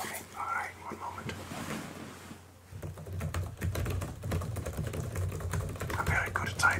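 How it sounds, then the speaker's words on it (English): Fingers type on a computer keyboard in a rapid run of close, crisp key clicks during a role-play cranial nerve exam, with soft whispering before and around it. "I'm very good at typing and looking at the same time."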